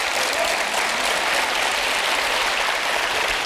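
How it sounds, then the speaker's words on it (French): A television studio audience applauds a father, a dense, even roar of many hands clapping that holds steady and loud throughout without a break. "on peut applaudir ce papa formidable"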